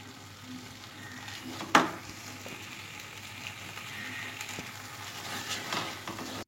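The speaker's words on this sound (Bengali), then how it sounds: "আমি 1 মিনিটের মতো মশলার সাথে ডালটা ভালোভাবে একটু মিশিয়ে নিলাম।" Dal fries gently with spices in a pan, giving a soft steady sizzle while it is stirred, with one sharp clack of the spoon against the pan early on.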